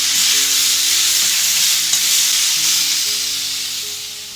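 Chopped tomatoes fry steadily in a pan for spicy brinjal (eggplant) chutney, giving a loud, even sizzle that runs unbroken and fades slightly toward the end, with no talking.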